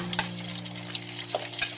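Pork rinds fry in a pan of oil with a soft, steady sizzle while being stirred, a few brief scraping clicks of the utensil standing out close by.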